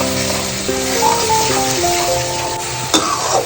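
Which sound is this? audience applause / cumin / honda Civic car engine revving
cumin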